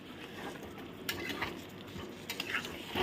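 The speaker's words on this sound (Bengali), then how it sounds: "চিকেনটাকে এর সাথে খুব ভালোভাবে নাড়াচাড়া করে খানিকক্ষণ কষিয়ে নেবো" Chicken being stirred and fried in a pan for kosha, with scraping spoon strokes and light clatter over a low sizzle, the sharper scrapes coming in a few bursts toward the end.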